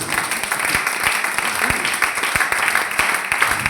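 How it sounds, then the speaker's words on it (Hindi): Sustained applause from an audience at a training event, a thick, even wash of many hands clapping close and loud for several seconds. "हम चाहेंगे कि तीनों लोगों के लिए ताली होनी चाहिए"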